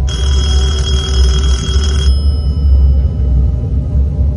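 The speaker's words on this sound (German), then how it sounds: "Telefon klingelt auf jeden Fall" Telephone bell ringing in the horror video game Detention, a loud shrill electronic ring that sounds for about two seconds and then cuts off, leaving a low droning ambience.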